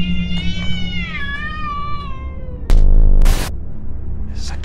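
A cat meows loudly and close in a long wavering cry inside a building, followed by a sharp burst of noise and a fainter meow near the end.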